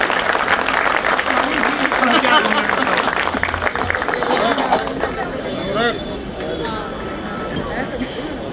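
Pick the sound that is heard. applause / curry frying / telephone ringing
applause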